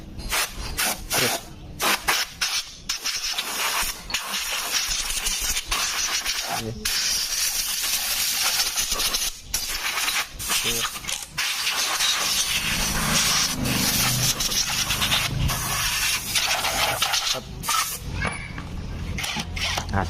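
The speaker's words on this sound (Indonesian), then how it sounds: "Ini kita semprot dulu" Pressurized water or cleaner sprayed onto a Honda Beat motorcycle engine cylinder to wash off sand and dirt, a loud close hissing in repeated bursts with brief pauses between them.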